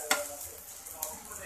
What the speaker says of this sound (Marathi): आता ह्याला मस्तपैकी परतवून घेऊया